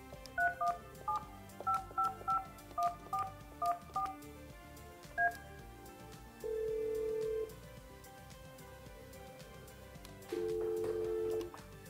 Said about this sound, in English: To place a call using the speakerphone, dial the number and hit send or the speakerphone button.